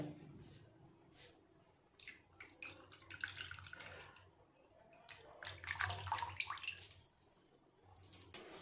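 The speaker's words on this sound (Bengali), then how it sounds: "দিয়ে দেব তেঁতুল জল" Tamarind water is poured into a bowl of lime juice and fuchka spices in a home kitchen, with splashing, trickling bursts and drips that come and go over several seconds, close up.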